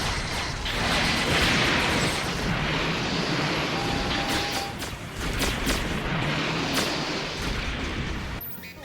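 Dense shooting and rumbling explosions from mech battles in Gundam SEED Battle Destiny, a steady, loud barrage of blasts and booms with no talk.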